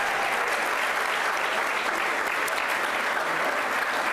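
Steady applause from a crowd at a valedictorians luncheon fills the whole stretch, dense and even with no talk over it.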